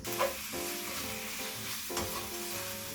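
Bacon sizzles and crackles steadily as it fries in a pan over medium-high heat, a dense continuous hiss heard up close with no talking.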